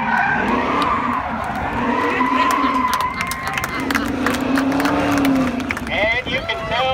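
A 1972 AMC Javelin AMX race car with a 6.2 liter Hemi spinning out at an autocross, its tires squealing in long wavering skids over a roaring engine, loud and close, with a crowd and someone talking throughout.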